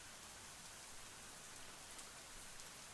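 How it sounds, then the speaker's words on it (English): Steady rain falls in the video game Snoot Game, a dense, even hiss of drops on surfaces that holds at a constant level throughout with no voices. "We stare at each other as the rain continues to bear down on us."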